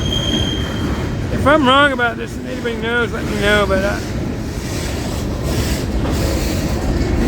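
Florida East Coast freight train of trash cars rolling past, a continuous low rumble of wheels and wind noise. Someone talks over it for a few seconds.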